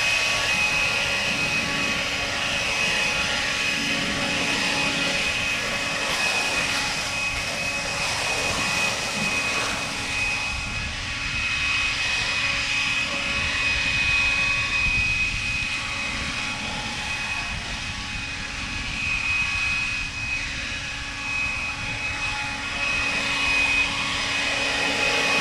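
A Toro 60V battery leaf blower runs with its turbo button held down, a loud, steady, close high-pitched whine and rushing air that holds at a constant roar throughout.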